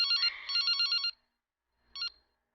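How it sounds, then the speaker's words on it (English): A cell phone in the video game Something's Wrong with Sunny rings in a rapid electronic trill, a long burst and then a short second ring after a pause, clear and alone. "Jack stops. It's my cell phone."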